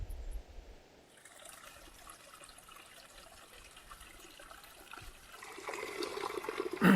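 Water trickles and dribbles softly at a bivouac while someone fetches water, a quiet continuous flow that grows louder and splashier toward the end.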